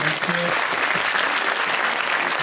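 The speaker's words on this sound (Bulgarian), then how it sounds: "силни аплодисменти, приятели" Loud, dense applause from an audience at a school open-day event in Bulgaria fills the whole stretch steadily, with a crowd murmur underneath.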